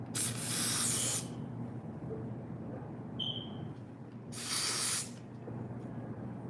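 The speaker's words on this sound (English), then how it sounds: "let's spray this down." Two long hissing blasts of hairspray, about a second each, separated by a pause with soft handling noise and a brief high tone.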